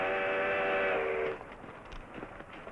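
A steam locomotive whistle blows a sustained, multi-toned blast in a Western setting, sounding loud for about a second before cutting off, then giving way to faint rumbling and background noise.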